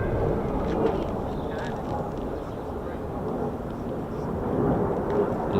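F-15 or F-35 fighter jet on a low approach at RAF Lakenheath, a loud, steady broadband roar that swells slightly toward the end, with faint voices in the background.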